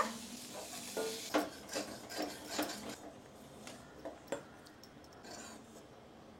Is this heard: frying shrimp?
yes